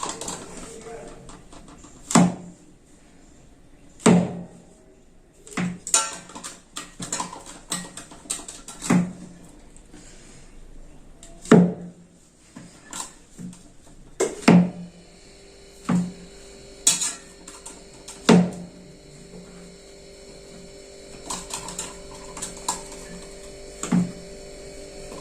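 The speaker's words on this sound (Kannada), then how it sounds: "ಹಿಂಗೆ ಪಟಕ್ಕ ಇಟ್ಟ ತಕ್ಷಣ ಪುಡುಕ್ಕಂತ ಕಟ್ ಆಗ್ಬಿಡುತ್ತೆ." A chef's knife chops mushrooms for gravy on a board in a home kitchen, a dozen or so sharp separate knocks at uneven intervals over a low steady hum, with someone talking between cuts.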